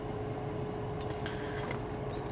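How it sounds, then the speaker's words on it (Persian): A bunch of keys jangles as it is pulled from a handbag, a bright metallic clinking lasting about a second over steady low background noise. "کلید داریم"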